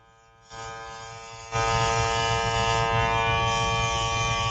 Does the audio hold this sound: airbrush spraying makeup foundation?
yes